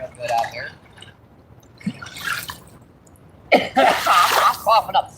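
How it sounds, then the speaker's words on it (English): A person outdoors while fishing coughs and clears their throat, with a few short harsh bursts near the start and a louder cluster toward the end. "I'm coughing up sand right now."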